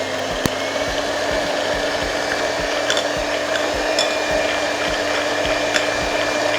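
An electric mixer beats butter and sugar for a ginger cake batter in a home kitchen. It gives a steady, loud whirring drone with occasional faint clicks and knocks, and nobody speaks.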